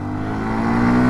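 A Hero Xtreme 125R motorcycle in power mode, its single engine droning and climbing in pitch as it revs, loud and close with no talk.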